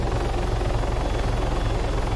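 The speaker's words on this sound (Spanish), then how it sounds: "Estoy siguiendo que el helicóptero." A helicopter flies in Arma 3, its rotor beating in a steady, fast low thump under a loud, continuous engine roar that stays close throughout.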